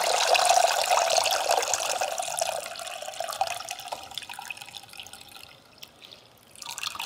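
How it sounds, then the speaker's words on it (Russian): Water being poured off soaked watermelon pieces into a sink, a splashing stream that starts loud and thins to trickles and drips before a final splash. "Мы аккуратно сливаем воду."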